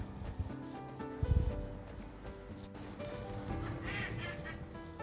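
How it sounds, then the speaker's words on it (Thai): Family of ducks by a river in Treviso, Italy: scattered quacks and honks, a louder cluster near the start, over soft outdoor riverside ambience with no talk. "ตรงนี้ครอบครัวเป็ดนะคะ"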